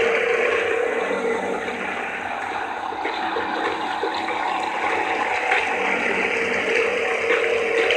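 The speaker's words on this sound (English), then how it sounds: "There's some water." Water runs steadily with a constant, fairly loud hiss and rush, alone with no voices over it.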